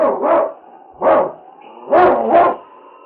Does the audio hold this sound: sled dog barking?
yes